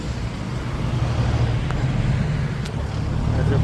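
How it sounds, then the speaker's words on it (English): Traffic rumbles along a very busy road near the big Ta Chin River in Thailand, a steady close roar of vehicles and big trucks with wind buffeting, plus two faint sharp clicks. "It's a very busy road."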